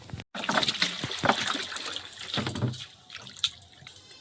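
Water running steadily to fill a bath, a continuous close splashing and trickling pour that softens toward the end, with no talk over it.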